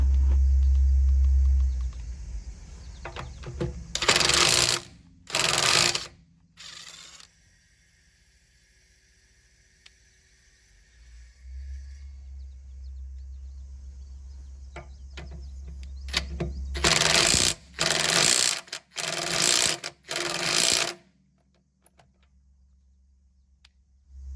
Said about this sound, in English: After the Ridgid, we have the Ryobi 1 Plus HP mid-torque impact.